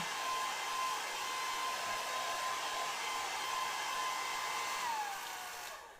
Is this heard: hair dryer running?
yes